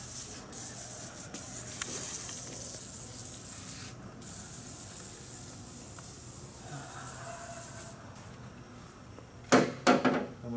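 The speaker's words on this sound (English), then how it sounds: "I'm just going to spray it on" Schaffer's Penetro 90 sprays from an aerosol can in a steady hiss for several seconds, followed near the end by a few louder clattering handling sounds.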